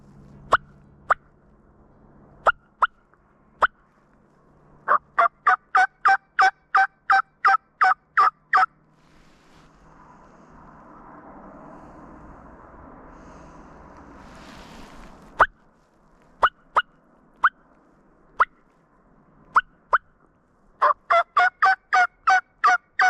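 A wild turkey tom in South Dakota gobbles again and again: sharp rapid rattling bursts, some single and some in long strings, clear and fairly near, with a soft rustling pause midway.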